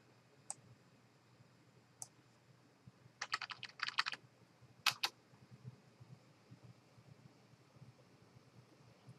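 Quiet keystrokes on a computer keyboard as a website URL is typed: a few isolated clicks, then a quick cluster of taps, then a couple more, over a faint low background hum.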